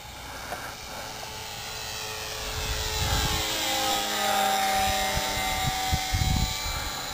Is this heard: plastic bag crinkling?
no